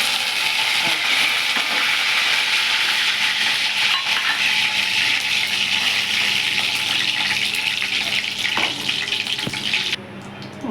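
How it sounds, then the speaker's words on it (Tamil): Dried chillies and curry leaves sizzle and crackle in hot oil, a steady, close frying hiss that continues for the whole stretch with no one speaking. "தாளிக்கிறதுக்கு 2 காஞ்ச மிளகாவும் கருவேப்பிலையும் போட்டு"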